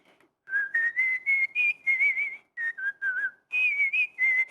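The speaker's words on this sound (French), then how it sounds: "La plupart du temps, je siffle." A person whistles a melody alone, clear and close, in phrased bursts with short pauses between notes.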